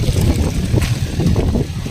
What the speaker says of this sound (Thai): ตอนนี้พายุลม มาอีกแล้วครับ